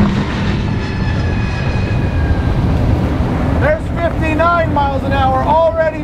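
A Fountain 38 center console boat with over 1000 hp runs flat out at high speed, its engines droning loud and steady under heavy wind buffeting while someone talks over it.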